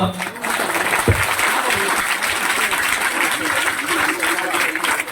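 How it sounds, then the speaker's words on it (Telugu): An audience applauds a guru swami at an Ayyappa Swami padi puja honoring ceremony in Pottepalem, Nellore. Steady, dense clapping fills the whole clip, with a brief sharp knock near the start. "ఒక్కసారి అందరూ మీరు చప్పట్లతో"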